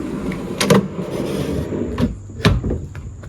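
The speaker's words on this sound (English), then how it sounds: "there's suction inside the drawer box, causing it to be harder to push the drawer in and out" A wooden drawer in a custom drawer box for a 5th Gen Toyota 4Runner slides in and out, giving several short knocks and sliding thumps over a low background hum, with no talking.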